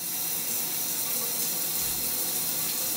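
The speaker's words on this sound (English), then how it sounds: "what I'm gonna do now is take a shower" Steady hiss of shower water running in a home bathroom, continuous and fairly loud with no voices over it.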